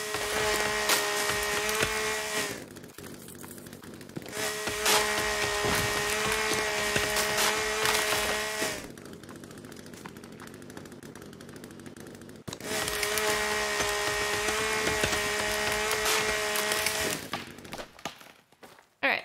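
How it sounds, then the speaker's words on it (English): A chainsaw cuts wood in the survival game The Forest, loud droning bursts of a few seconds each, separated by pauses, with no voices. "Let's grab our chainsaw."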